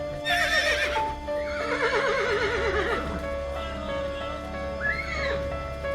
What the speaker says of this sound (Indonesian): sampai akhirnya suara ringkikan kuda itu berbunyi lagi